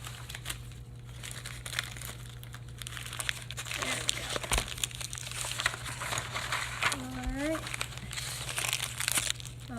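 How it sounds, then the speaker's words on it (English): A clump of paper is crinkled and wound tightly by hand to form an animal armature, with dense, close crackling that comes in bursts as a voice speaks intermittently over a faint steady hum. "Now I'm going to hold my clump of paper and tightly wind it around."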